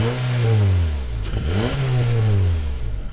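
2016 Honda HR-V with a 1.8-liter four-cylinder engine and continuously variable transmission, droning steadily as it accelerates, the pitch dipping and climbing again like simulated gear shifts, heard close and alone.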